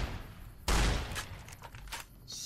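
A sniper rifle fires in Fallout: New Vegas with a sharp, loud crack and a boom, then scattered lighter impacts and rattles from a game firefight, all close up.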